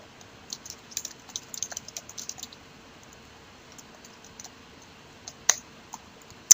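Typing on a computer keyboard comes as light, scattered key clicks, a quick burst early on, then sparse isolated taps and a couple of sharper clicks near the end, close by in a quiet room.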